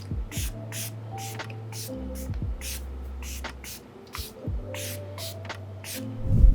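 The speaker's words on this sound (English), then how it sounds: "To set the makeup, I'm going to use Patch Skin Setting Spray." Patch Skin makeup setting spray mists onto a face in a series of short, breathy hisses, spaced irregularly with quiet gaps between them, close to the microphone.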